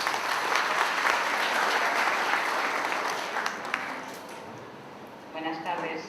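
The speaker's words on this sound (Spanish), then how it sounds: "Con eso la aplaudimos." Applause from the audience at a university forum on virtual education, a broad wash of clapping that fades gradually before a voice begins speaking at the end.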